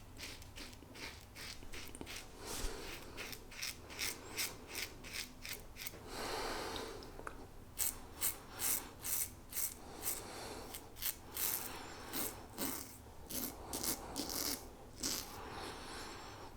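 Gillette Heritage double-edge safety razor shaving against the grain over a 1970s Boots shave stick lather: a run of close, rhythmic scraping strokes, each a short rasp with brief pauses between, fairly quiet and with no talking.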